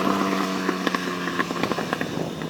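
A 2008 Honda CBR1000RR liter sport motorcycle engine drops through gears on a downshift, the steady roar broken by a few quick revving blips, loud and close.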